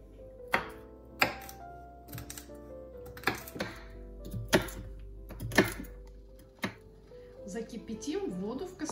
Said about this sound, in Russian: А затем нарезаем ее такими небольшими порционными кусочками.